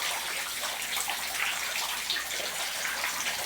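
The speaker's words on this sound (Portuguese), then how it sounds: "Nossa, chuva mesmo. Muita chuva mesmo." Heavy rain pours outside at night in Itapipoca, Ceará, a steady, dense hiss of water falling continuously at moderate distance with no voices.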